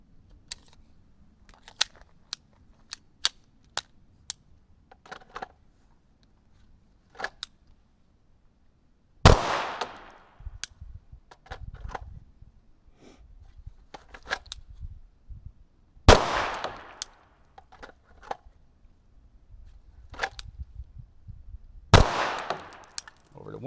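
Pistol shots during a beginner shooting drill from the holster at the 3-yard line: a few loud, sharp reports spaced several seconds apart, with lighter clicks and handling noises in between.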